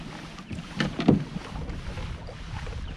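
Gusty wind on Watts Bar Lake while fishing from a kayak, a soft steady rush with a few louder buffeting bursts of wind against the microphone and faint paddle or hull knocks.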